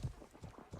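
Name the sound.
horse hooves in Life is Feudal video game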